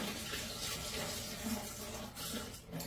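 Spring water sloshes and drains steadily from a jar of sprouting wheatgrass seeds as it is shaken during rinsing, a soft, continuous watery rush with no talking.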